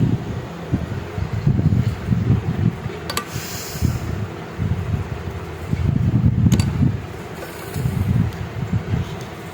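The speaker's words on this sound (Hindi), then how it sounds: "अब हमने इसके ऊपर इस तरह से सिलाई लगा देनी है।" Sewing machine stitching fabric while attaching a teera to a shirt, with close bursts of rapid mechanical whirring that stop and start, and a few sharp clicks between the runs.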